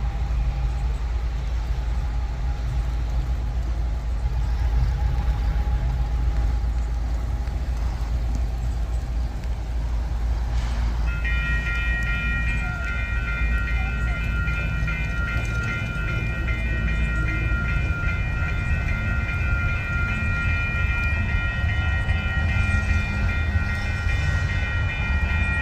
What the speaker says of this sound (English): This time it's for sure a Union Pacific locomotive.